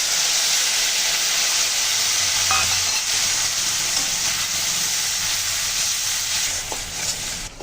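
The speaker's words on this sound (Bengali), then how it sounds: "ফোড়ন তো সুন্দর করে ভেজে নিলাম, এখন দিয়ে দিচ্ছি কাঠমরিচগুলো" Dried red chillies, cumin tempering, turmeric and spices sizzle in hot oil in a pan, a loud continuous close frying hiss with faint stirring scrapes throughout.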